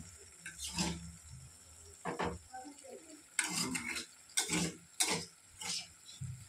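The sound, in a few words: raw banana added to fried spices in oil, stirring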